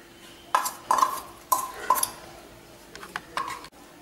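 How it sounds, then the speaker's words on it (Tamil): Adai dosa batter being mixed with vegetables and drumstick leaves, with a few close, intermittent scrapes and clinks of a spoon against the bowl and no talking. "மாவோட காய்கறியும் சேர்த்து நல்லா மிக்ஸ் பண்ணி"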